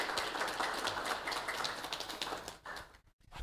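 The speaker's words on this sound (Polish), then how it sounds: "szanowni państwo, brawa, brawa dla was" Crowd applause filling a municipal council session hall in Sławatycze, a dense, steady wash of many hands clapping that thins out and briefly drops away near the end.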